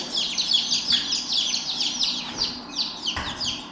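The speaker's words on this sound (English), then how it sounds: "And birds are getting loud because they're cold." Many birds in a barn chirp rapidly and loudly all at once, a dense, continuous high twittering with no pauses, close and filling the space.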